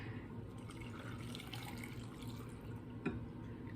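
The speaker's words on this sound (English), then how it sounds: "In with the water." Salted water is poured into a jar of fermenting cucumbers and green beans, a steady faint trickle and splash running throughout with a small clink near the end, close and quiet.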